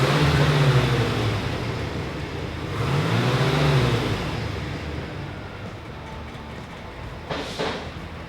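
A low-mileage 1982 Chevrolet Corvette Stingray T-Top coupe rumbles at idle nearby. Its engine swells in two slow revs, each rising and falling away, with a brief higher burst near the end.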